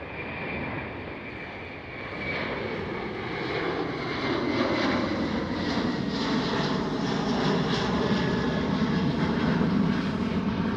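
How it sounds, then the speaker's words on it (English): A Delta Air Lines Airbus A330 jet at Schiphol makes a very loud, sustained engine roar with a shifting whine that swells gradually over about eleven seconds, heard alone with no talking. "There is an Airbus A330 of Delta Airlines."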